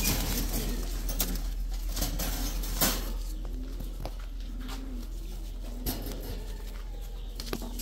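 An ice pigeon coos inside a plywood breeder cage, soft repeated low coos close by under a steady hum of background noise, with a few light taps and flutters.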